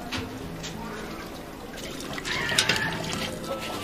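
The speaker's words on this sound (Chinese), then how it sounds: "瓜洗洗干净。" Winter melon being rinsed under running water in a home kitchen, a steady trickle and splash that swells briefly toward the end, with faint voices in the background.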